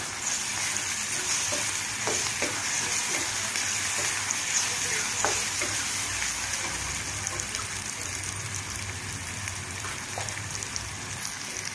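Ginger-garlic paste frying with softened onions in a pan for a ridge gourd, dried prawn and egg curry, a steady dense sizzle with occasional clinks of stirring, close and continuous throughout.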